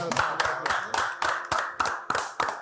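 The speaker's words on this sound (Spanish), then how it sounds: "Un aplauso." Applause for a guest on a podcast: a small group clapping in a steady, regular rhythm, about nine distinct close claps.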